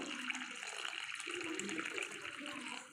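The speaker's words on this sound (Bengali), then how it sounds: "এখন আমি জল দেব" Water pours steadily into flour for chapati dough, a continuous close splashing stream that runs the whole time and eases off at the end, with no talk.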